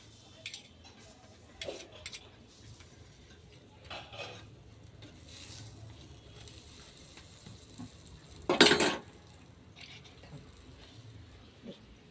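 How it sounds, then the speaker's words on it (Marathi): Dishes and spoons clink sparsely while pav bhaji is plated in a home kitchen, with soft scattered taps and one sharp, louder clatter of metal against plate near the end. "आता मी ताट तयार करते पावभाजीचं"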